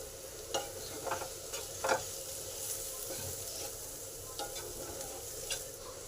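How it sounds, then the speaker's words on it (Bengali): Onion and grated ginger sizzle quietly in a pan for echorer chop, stirred with repeated light scraping strokes that punctuate a steady frying hiss. "পেঁয়াজটা ভালোভাবে ভাজা হয়ে এসেছে এই সময় আদা গ্রেট করা আছে সেটা দিয়ে দিলাম"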